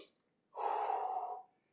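A single heavy, breathy exhale lasts about a second after a short intake of breath, taken in a slow all-fours spine-mobilization exercise and heard close up with no speech.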